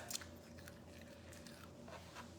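Faint, close bites into crunchy cooked macaroni for a macaroni salad give a few soft crisp crunches over a low steady hum.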